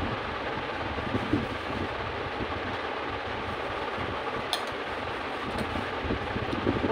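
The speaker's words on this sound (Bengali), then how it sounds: "ফ্যান চলছে বলে বাইরের গানের আওয়াজটা অতটা ঘর মানে বোঝা যাচ্ছে না" An electric fan runs in a room, a steady broadband whoosh that holds evenly throughout, fairly close and moderately loud, masking fainter sounds from outside, with no talking.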